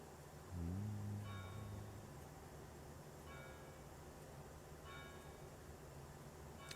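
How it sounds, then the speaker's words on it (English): Church bells ring out in the Farm Simulator game, three soft tolling strikes spaced about every one and a half seconds, faint and distant over a low rumbling machinery drone. "I hear the bells, church bells ringing."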